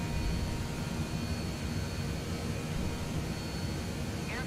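Steady broadband engine roar of an Air France airliner climbing away from Lourdes Pyrénées airport in Microsoft Flight Simulator 2020, a constant hiss-like drone with a faint tonal whine and a brief rising chirp at the end.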